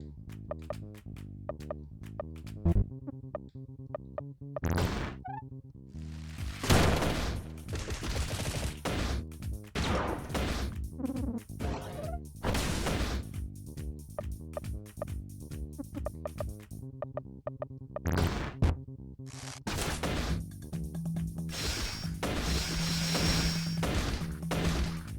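Rapid machine-gun fist punches in the video game Lisa the Painful, a long barrage of sharp smashing impacts and crashing hits in dense bursts with short pauses, loud and close over game music, no voices.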